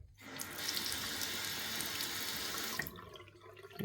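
Bathroom tap running in a steady hiss of water, then shutting off abruptly, leaving a quiet room with faint residual drips.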